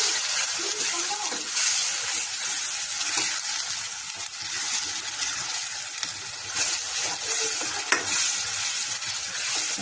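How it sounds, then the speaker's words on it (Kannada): Masala for a chicken gravy fries in a pan, with a continuous sizzle and repeated stirring and scraping throughout. "ಒಂದು ಫ್ರೈ ಆಗುತ್ತದು."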